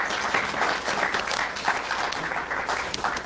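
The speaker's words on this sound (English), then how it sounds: "Big round of applause." A church congregation applauds, a full, moderately loud round of clapping with a few distinct sharper claps standing out, steady for several seconds with faint voices beneath.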